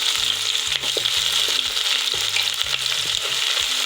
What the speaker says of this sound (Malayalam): ഈ കടുക് പൊട്ടി വരുമ്പോഴത്തേന് ഈ ഉള്ളിയുള്ള പാകം അങ്ങ് വാരിയിട്ട് കൊടുക്കാം